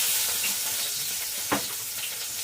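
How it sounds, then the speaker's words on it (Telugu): Green chilies fry in a hot pan with a steady, close sizzle, broken by a brief stirring scrape midway, and no voices. "అందుకని పచ్చిమిర్చి వేయించుకుందాం."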